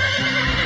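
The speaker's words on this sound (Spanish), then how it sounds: "Vamos, Alma, a ensillar los caballos." A horse whinnies loudly and close, one brief continuous neigh in a stable setting.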